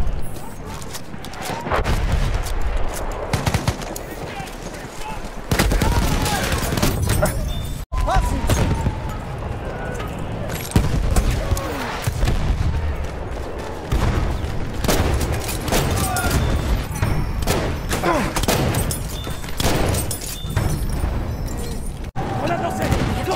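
Gunfire in Battlefield 1 combat, with loud bursts of shots and booming explosions amid constant battle noise, while a voice talks over much of it.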